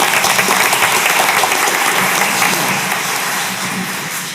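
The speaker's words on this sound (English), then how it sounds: "We can give her a round of applause." Applause from the audience at a school district board meeting, dense steady clapping from a roomful of people that gradually thins and fades toward the end, no talk over it.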